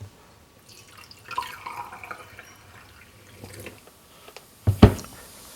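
Kombucha tea is poured into a glass: a faint, soft trickle and splash over a quiet room, ending with a short, louder knock as the glass is handled.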